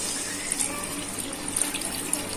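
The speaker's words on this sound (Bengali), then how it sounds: "এবার এর মধ্যে জল দিয়ে দেবো।" Water streams steadily into a pot of spiced gobindobhog rice, a continuous close splashing gush that holds at an even level throughout.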